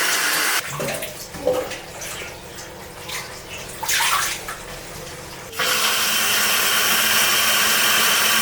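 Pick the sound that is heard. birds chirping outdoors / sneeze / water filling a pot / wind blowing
water filling a pot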